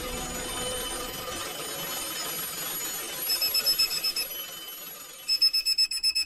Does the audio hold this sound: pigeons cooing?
no